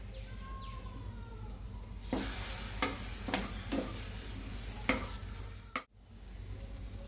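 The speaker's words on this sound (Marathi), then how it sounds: "मिसळ मसाला टाकून घेऊ आपण." Misal masala fries in a pan with a steady hiss of hot oil, while several sharp scraping stir strokes sound close by before a brief break.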